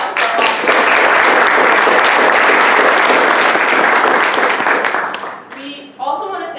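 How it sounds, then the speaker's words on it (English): Audience at a high school business competition opening ceremony applauding mentors, loud, dense clapping for about five seconds before fading, followed by a speaking voice. "so just a quick round of applause for our"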